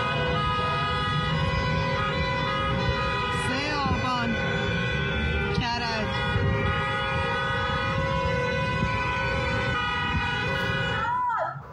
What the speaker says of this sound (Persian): کرج و تهران مردم با بوق خودروها اعتراض کردند و شعارهای شبانه